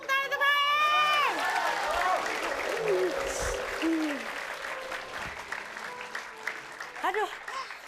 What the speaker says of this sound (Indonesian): Tepuk tangan untuk Rohim.